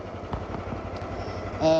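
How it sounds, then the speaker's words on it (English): A 13hp Rock Machinery wood chipper engine idles with a steady low rumble, a brief higher tonal whine joining at the very end. "the machine now is just sitting there idling."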